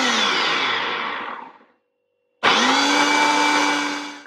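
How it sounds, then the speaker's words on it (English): Kitchen blender on its ultra blend setting mixing cream cheese with onion granules, a loud whirring roar that winds down, goes silent briefly, then starts again at full speed. "I'm putting it on ultra blend."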